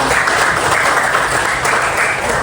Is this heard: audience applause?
yes